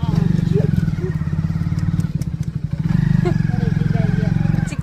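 Motorbike engine running steadily while riding along a village lane in a storm, with people talking over it almost throughout and a short dip in engine noise midway.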